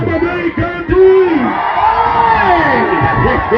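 Loud, close cheering from a concert audience at a beach bar in Bamburi, Mombasa: overlapping yells and whoops swell after a brief dip and stay dense, with clapping mixed under the shouting.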